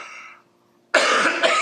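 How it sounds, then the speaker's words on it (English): A short throat sound that trails off, then after a pause a loud, harsh cough burst up close. "He's coughing."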